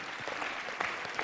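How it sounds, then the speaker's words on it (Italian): Studio audience applause on an Italian Sunday television variety show during a Sanremo 2010 special, a brief burst of steady clapping that holds at an even level for just over a second. "facciamo un applauso a De Luca"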